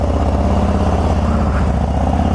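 A motorcycle fitted with a Lucky Dave's seat rolls along with a loud, steady low engine drone and constant rumble close by, no voices over it.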